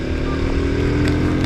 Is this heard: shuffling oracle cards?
no